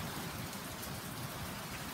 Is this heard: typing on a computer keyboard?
no